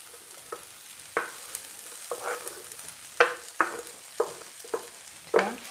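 Spring onions frying in a hot pan for Thai pineapple rice, a steady close sizzle punctuated by a string of sharp scraping stirs and clacks of a spatula at irregular intervals, with no talking.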